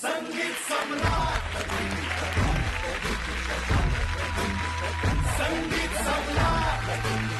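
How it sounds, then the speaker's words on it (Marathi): An audience on a Marathi TV music show stage applauds the film team, a steady wash of clapping and crowd noise over loud accompanying music with repeated drum beats. "सविता दामोदर परांजपे या चित्रपटाच्या संपूर्ण टीमसाठी जोरदार टाळ्या"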